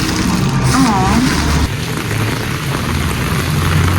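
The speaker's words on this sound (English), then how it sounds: "it's pouring down rain, of course" Heavy rain pours down on a walk home in Mexico, a dense, steady hiss close around, while a person speaks over it.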